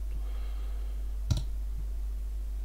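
A single sharp computer mouse click picking the chamfer command in AutoCAD 2023, close and brief over a steady low electrical hum, with no talking.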